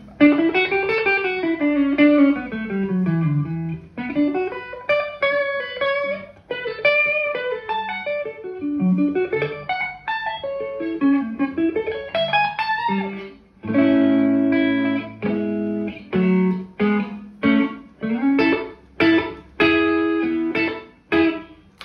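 Electric guitar through an EFFpedal Centaurus overdrive pedal, lightly driven and fairly clean, playing continuous melodic runs and sliding phrases up close, then turning to choppier picked notes and chords toward the end, with no voice.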